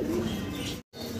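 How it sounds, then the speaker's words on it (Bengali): Lahori fancy pigeons coo in low, throaty murmurs close by, with a short gap of silence in the middle. "আরও এক জোড়া লাহোরি কবুতর দেখতে পারতেছি"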